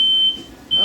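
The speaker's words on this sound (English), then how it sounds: "It's a little smoke detector." A small smoke detector sounds in a home kitchen while vegetables cook, giving two shrill, steady electronic tones separated by a short gap, loud and close.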